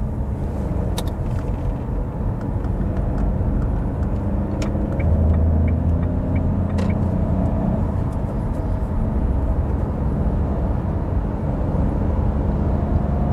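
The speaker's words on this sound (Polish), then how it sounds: "Mamy 80, pedał w podłogę, rozpędzamy się." A Dacia Duster Prestige with the TCe 100 petrol engine accelerating at full throttle from 80 km/h toward 120 km/h, a steady loud cabin drone of engine and road rumble that swells slightly midway, with no talk.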